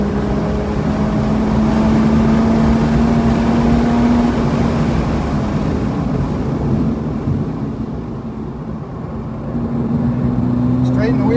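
A car engine on the Buttonwillow race track during a track-day session drones loudly and continuously from inside the cabin. Its pitch climbs steadily, dips slightly, then rises again under acceleration, with a voice talking over it.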